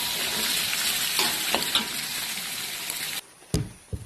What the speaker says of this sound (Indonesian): Ini saya goreng dengan api kecil aja teman-teman.